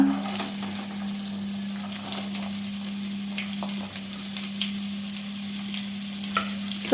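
Chopped onions frying in oil in a pan over a low flame for vermicelli upma, giving a continuous close sizzle with a faint steady hum underneath and occasional small crackles.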